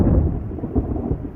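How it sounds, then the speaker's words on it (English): A thunderstorm with heavy, pouring rain: a deep, rumbling roll of thunder over a dense wash of rain, loud and continuous through the short span. "There was thunder and lightning, and the rain poured down in torrents."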